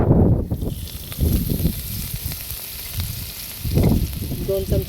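Oil poured into a pan of browned onions sizzles and crackles in bursts of frying, loud at first and then rising again, cooked outdoors on a farm. A person talks briefly alongside.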